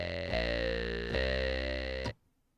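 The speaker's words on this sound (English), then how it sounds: "This sound can be created on any VST that has a sawtooth wave and a" Synth bass built in Reason from a sawtooth wave with a formant filter, a buzzy sustained tone restruck twice with a vowel-like sweep, then cutting off abruptly.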